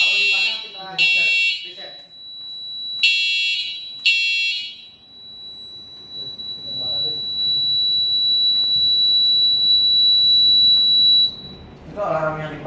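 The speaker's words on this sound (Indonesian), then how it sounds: "Itu alarm yang di panel suaranya sih ya?" A fire alarm panel buzzer in a deluge fire suppression system sounds in short pulsing bursts and then holds a long continuous tone, while people talk nearby.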